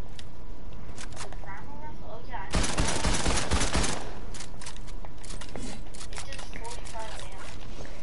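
A purple primal rifle fires a dense, loud burst of rapid shots for about a second and a half in the middle of a video game, with lighter game noises and talking around it.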